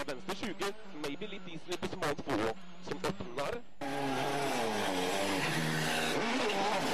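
A Qatar M-Sport World Rally Team car driven by Mats Østberg ploughs through melting slush on a Monte Carlo rally stage, with a loud, sustained engine roar and spray building after a stretch of commentary-style talk and crowd noise.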